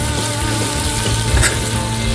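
Smash burgers frying on a Blackstone griddle, a loud, continuous close-up sizzle with steady crackling and no talking.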